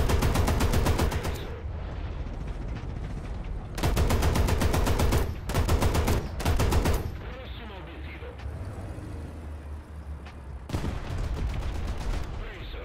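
Italian M42 in War Thunder firing its belt-fed ammunition in long rapid bursts, loud and close, with pauses between strings of shots and a faint game rumble underneath.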